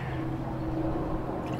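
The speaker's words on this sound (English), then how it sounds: "I'm gonna pour this liquid into this beaker" Liquid from a gold and silver recovery process, filtered from plastic IC chips, is poured into a lab beaker, giving a steady trickling, dripping flow at close range without talk.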